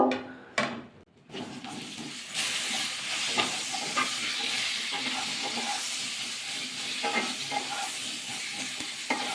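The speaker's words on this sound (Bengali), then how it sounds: "কপিটা কিন্তু আমি ডাইরেক্ট কিন্তু ভাজা করছি আজকে" Cauliflower pieces frying directly in a pan without boiling first, a steady close sizzle and hiss with occasional stirring scrapes after a few knocks at the start.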